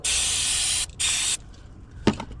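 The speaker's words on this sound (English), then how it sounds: "first thing I'm gonna do is I'm gonna get some electrical cleaner here" Electrical cleaner sprays onto a car battery terminal on a 2013-2020 Subaru BRZ in two close hissing bursts, the first longer than the second. A short knock follows at the end.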